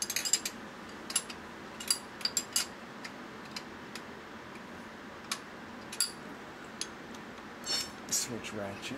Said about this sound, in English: Switch ratchets. I like this ratchet better.